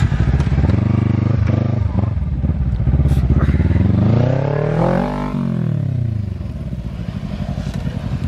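Kawasaki Ninja 300 and Ninja 400 sport bikes race side by side, engines revving hard and climbing in pitch with a steady loud drone, one bike passing close partway through.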